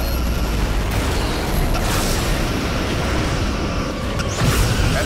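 Loud, dense explosion rumble as a Romulan starship is destroyed in the 2006 Star Trek Legacy space combat game, a sustained roaring blast with brief bursts layered on top.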